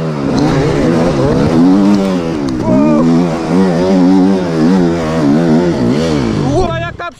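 An enduro motorcycle engine fires up and revs on a muddy outing, producing a loud, continuous buzzing drone that rises and falls in pitch with the throttle, with people talking over it.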